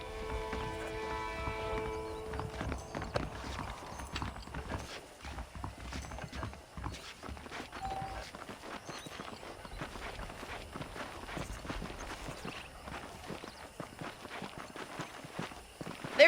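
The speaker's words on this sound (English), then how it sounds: "The horses are saddled up over here." Saddled horses in Red Dead Redemption walk with a steady, moderately close clip-clop of hooves that runs throughout, with faint background game sounds and no talking.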